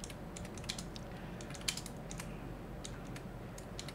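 Steady run of clicky keystrokes on a computer keyboard as a C program is written, with irregular taps and a few sharper key hits over a faint background hum, no talking.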